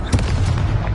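A Confringo fire spell going off in Hogwarts Legacy, a single short, loud, muffled blast that fades within a second.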